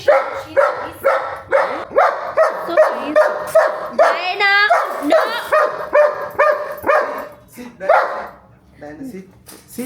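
A small dog barks repeatedly in a quick, steady series of close, loud yaps, with a brief whine in the middle, while someone talks over it.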